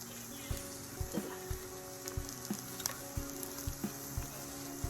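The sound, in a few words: pork sizzling on a Thai moo kratha grill pan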